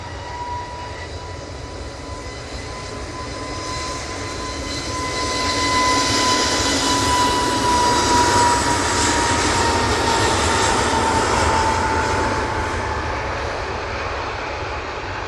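An easyJet Airbus A320neo at Manchester Airport spools up its jet engines for takeoff, a broad, loud roar that swells steadily and holds, with a thin whine running through it.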